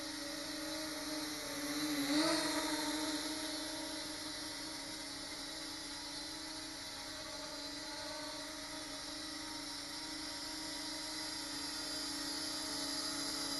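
A Cellstar Wave Razor drone hovers indoors, its steady whining rotor buzz holding a constant pitch, loudest as it moves close early on, then staying even with no talking.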